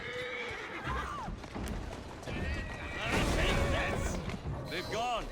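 A horse in the Assassin's Creed Syndicate video game whinnies several times over steady clip-clopping hooves and carriage rumble, with a voice speaking over the game sound.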